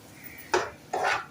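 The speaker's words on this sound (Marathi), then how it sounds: "थोडंसं ढवळून देऊया" Varai rice upma being stirred in a pan, two short scraping strokes of a spoon against the pan about half a second apart, close and fairly quiet.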